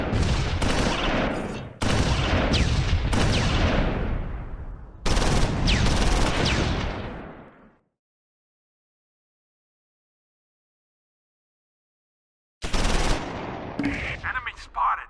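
Brutal firefight in Close Combat 4, loud bursts of rifle and machine-gun fire in clustered volleys, then a long silence before another burst of shooting returns.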